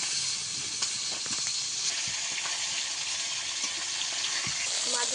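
Shingi fish frying in a little oil in a pan, a steady close sizzle and hiss with scattered pops and crackles, occasional utensil knocks as the pieces are turned, a voice speaking quietly underneath.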